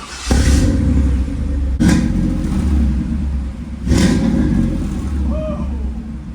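A Camaro V8 engine with a Flowmaster exhaust idles with a deep exhaust rumble, then revs up three times in quick bursts, loud and close.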